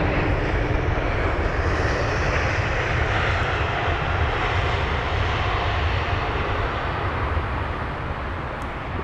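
Air Astana airliner landing at London Heathrow, a steady, loud broadband jet roar that holds for the whole stretch and eases slightly near the end.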